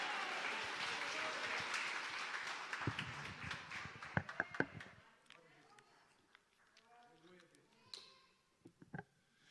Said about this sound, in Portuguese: aplauda o nome do Rei.